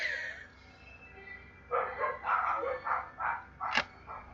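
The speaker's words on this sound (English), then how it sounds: "Dogs are barking." Dogs barking somewhat far off, a quick run of five or six muffled barks following a brief faint whine.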